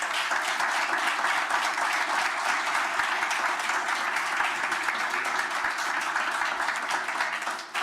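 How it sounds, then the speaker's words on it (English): Audience applause for the Illinois governor at a bill-signing event, a dense and steady roar of many hands clapping at close range that carries evenly throughout before tapering at the very end. "let's have a big round of applause for Governor Bruce Rauner"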